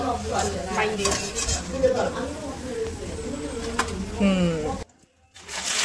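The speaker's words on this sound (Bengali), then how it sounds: "আদা, রসুন, এবার এটাকে একটু নেড়ে চেড়ে নিতে হবে।" Ginger and garlic are stirred in a pan with clinks of a utensil against the metal and a soft sizzle, while a person talks over it before a brief silence.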